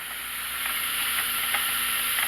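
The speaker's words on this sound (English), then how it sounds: "I'm waiting right now for the steam to come out of the vent." Steam hissing steadily from the vent of a pressure canner before the weight goes on, a constant close broadband rush with a faint hum beneath and small puffs surging every so often.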